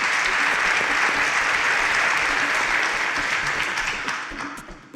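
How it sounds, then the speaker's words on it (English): Audience at a Nigerian quiz show clapping and applauding, a dense, loud wash of many hands that holds steady and then fades out toward the end. "A round of applause for them"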